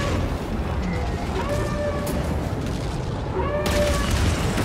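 Laser blaster fire in Star Wars Jedi: Fallen Order, dense and continuous over loud game combat noise, with repeated pitched zaps and booms throughout.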